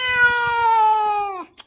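A cat lets out one long, drawn-out meow with a falling pitch at the end, close and clear, followed by a brief soft noise.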